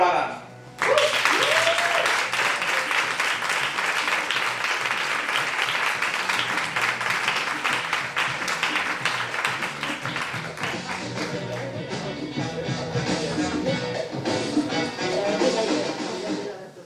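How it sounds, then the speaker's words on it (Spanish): A crowd at a poetry slam applauds a performer, the clapping swelling into a long, loud, steady roll that thins toward the end, with a voice and some cheering mixed in. "Pido un aplauso, por favor,"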